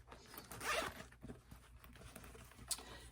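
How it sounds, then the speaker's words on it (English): The zipper on a large Dooney & Bourke zip shopper tote bag is pulled in a quick, close rasping run, followed by faint handling rustles and a small click. "So you could always zip it for protection as well."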